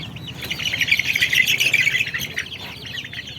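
Native country chicken (nattu kozhi) chicks for sale at a shop in Kadalangudi chirp in a busy, continuous chorus of high, rapid peeps. The chirping is close and fairly loud.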